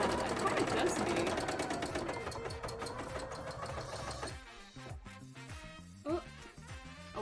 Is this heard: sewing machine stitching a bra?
yes